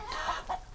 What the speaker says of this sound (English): There's another rooster up there who's half Chanticleer.